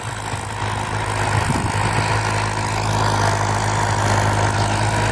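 A Ford New Holland 7610 tractor's four-cylinder turbo intercooled diesel engine idles steadily nearby with a low, constant rumble, no revving and no voices.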